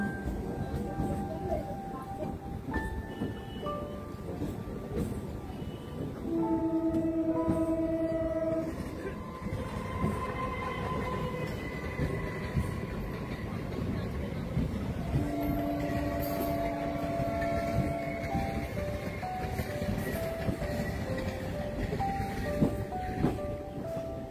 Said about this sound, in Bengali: আমাদের ট্রেন দমদম স্টেশন প্রবেশ করছে।